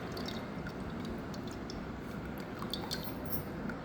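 Soaked tamarind juice being poured into a mixing bowl of green chilli, salt and raw mango for Ugadi pachadi, a soft continuous wet splashing and squishing with small drips, close and fairly quiet.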